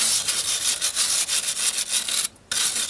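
A bolt on the suspension of a 2003 GMC Sierra or Chevrolet Silverado 2500 gets scrubbed clean, a close, rapid rasping back-and-forth with a steady rhythm and a brief pause near the end.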